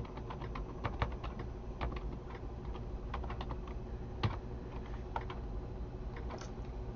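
A new computer keyboard clatters under steady typing, close and fairly quiet, with irregular bursts of keystrokes and a sharper tap near the middle.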